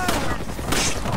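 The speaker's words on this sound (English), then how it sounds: "Gunfire" Rapid gunfire from a first-person shooter match, dense bursts of shots and booming impacts running throughout, loud and close, with game sound layered over the firing.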